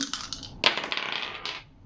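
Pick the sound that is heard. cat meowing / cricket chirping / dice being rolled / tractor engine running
dice being rolled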